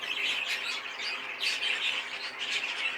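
Pet cage birds, budgies and Fife canaries, squawk and chirp continuously at close range, a dense, busy chatter with repeated bursts of sharp calls and no talking.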